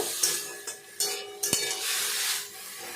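Food stirred in a frying pan with little oil, salt, turmeric and whole green chillies, several scraping strokes with a hiss of sizzling between them and one sharp knock of the utensil against the pan, close and alone.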